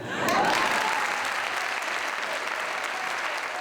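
An audience applauds a flamenco group after a concert, a dense, even wash of clapping that swells at the start and then holds steady.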